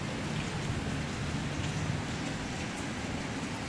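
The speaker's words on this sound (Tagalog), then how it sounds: "Dito sa amin ay umuulan. Hindi tumitigil. Minsan malakas na ulan." Heavy rain pours steadily in Dasmariñas, Cavite, at Barangay Emmanuel, a dense, unbroken hiss of falling water that stays constant and close throughout.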